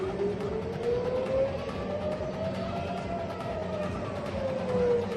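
Civil defense rocket attack siren wailing across Tel Aviv, a long rising and falling tone sounding from a distance over a busy street background.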